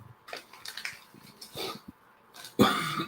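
A person with a mild cough and a sore throat gives a few small throat sounds, then one sharp, close cough near the end, in an otherwise quiet room.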